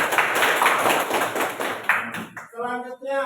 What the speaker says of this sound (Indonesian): Ya, tepuk tangan untuk Dipa.